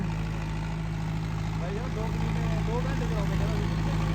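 A new 6055 tractor engine idles in a steady, continuous low rumble with a constant hum, while someone talks over it.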